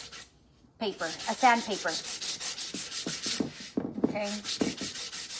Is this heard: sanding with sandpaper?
yes